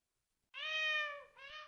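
A domestic cat gives two clear meows, a long drawn-out call followed by a shorter second one, close and alone against silence.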